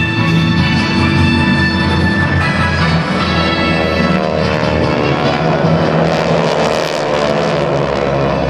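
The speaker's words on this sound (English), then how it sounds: "600 horsepower in each aircraft." GEICO Skytypers propeller aircraft, 600 horsepower each, fly at the 2009 Blue Angels Homecoming airshow, a loud, steady, close engine drone with a rich buzzing tone that holds throughout without a break.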